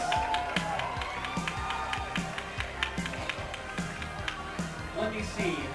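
Crowd cheering and clapping at a Tekken 7 fighting game tournament, a steady roar of applause with sharp claps and whoops throughout, while an announcer's voice talks over it on stage.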